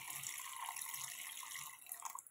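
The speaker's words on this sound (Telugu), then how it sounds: "వాటర్ పోసుకుంటున్నానండి." Water poured over boneless broiler chicken pieces in a bowl, a faint steady splashing trickle close by that tapers off at the end.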